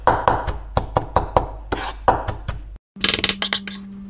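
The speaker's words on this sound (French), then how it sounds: "Après on hache, on va hacher un peu." Knife chopping marinated beef on a cutting board, a fast series of sharp, close thuds with crisp clicks, briefly stopping, then resuming alongside a steady low hum.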